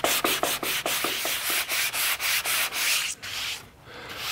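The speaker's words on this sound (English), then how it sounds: "massage the top with this 220 grit paper" Close sanding of an archtop guitar's carved wooden top with 220 grit sandpaper, a run of quick rhythmic rubbing strokes that then softens into a longer smooth pass, with no talk.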